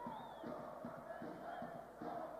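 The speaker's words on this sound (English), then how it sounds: "You can hear this El Paso crowd trying to inspire their team." Home crowd at an El Paso Locomotive FC soccer match in the U.S. Open Cup, a distant, sustained roar of chanting and cheering with rhythmic pulses of voices rising and falling in a large stadium.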